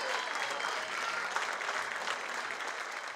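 Nightly applause from a Santiago community for health workers, faint and distant clapping from many people that continues steadily, with a few voices mixed in.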